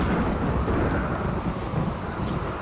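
A thunderstorm rumbles in a deep, continuous roar, with rain and wind noise filling the background at steady, loud volume.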